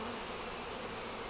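A dense, steady drone of many bees buzzing from a backyard swarm on a tree branch, continuous and close, with no voices.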